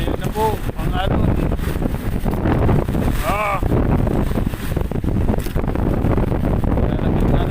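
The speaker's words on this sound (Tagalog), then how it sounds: "Malalaking alon. Lakas ng hangin." Big ocean waves and strong wind at sea, heard as a loud, continuous roar of buffeting wind over the microphone and surging water, with someone talking over it.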